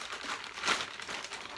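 Plastic bag of clay twisted shut to seal it, a soft crinkling and crumpling lasting under two seconds, fairly quiet and close, with a brief louder rustle partway through.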